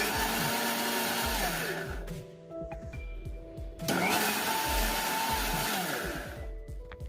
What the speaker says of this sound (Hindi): 1 पल्स या 2 पल्स के सहारे से साग को पीसेंगे।